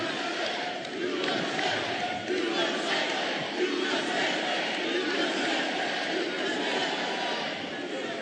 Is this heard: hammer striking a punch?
no